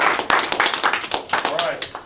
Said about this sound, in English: So give yourself a round of applause and let's have a good week